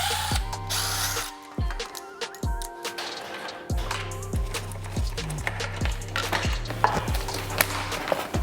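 A hand ratchet clicks in quick repeated runs as handlebars are removed from a 1999 Kawasaki KX250 two-stroke dirt bike, close and metallic, with short pauses between strokes and no talk.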